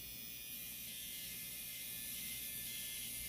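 A Finishing Touch Flawless Nu electric razor buzzes steadily as it shaves an arm, a close, continuous high-pitched whir with no pauses and no talking.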